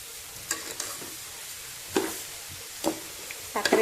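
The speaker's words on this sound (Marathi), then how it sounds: "हे असं मिक्स करून घ्यायचं एकत्र करायचं" Grated coconut being stirred in hot sugar syrup for Konkan-style coconut vadi: soft bubbling under intermittent scraping and clinking strokes of a spoon against the pan, a few sharper knocks near the end.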